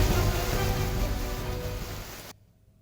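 Heavy rain in Jaipur makes a dense, steady hiss of water, loud and close, before it cuts off abruptly near the end.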